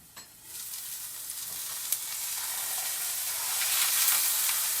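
Chicken and sauce sizzle and fry in a pan, starting with a brief clatter and then settling into a steady, bright crackling hiss that grows slightly louder, with no talking.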